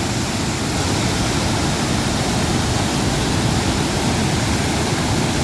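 A waterfall near a dam roars in a steady, dense broadband rush, loud and unbroken throughout with no voices.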